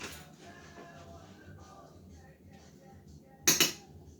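A spoon clinks against a pot of black bean beef chili in a home kitchen, a quick bright cluster of metallic taps and scrapes near the end, preceded by soft kitchen rustling.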